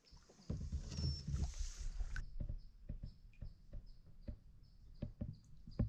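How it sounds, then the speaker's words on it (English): A canoe is paddled around the edge of a lake with soft, irregular knocks and dull thumps. The paddle strokes are close but quiet, with faint water and outdoor ambience and a brief swishing in the first seconds. "So we're paddling around the edge of the lake"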